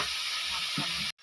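Chopped ash gourd hits a hot pan with a steady, loud hiss and sizzle that runs continuously, then cuts off abruptly near the end.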